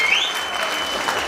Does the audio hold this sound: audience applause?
yes